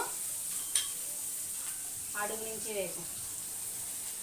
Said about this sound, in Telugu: వేయించు బాగా, కలిపెట్టు. కాడబెట్టుకొని బాగా వేపాల. అడుగు నుంచి వేపు.